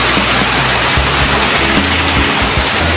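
Heavy typhoon rain pouring down in a steady, dense roar, loud and close with no pauses, alone without talk.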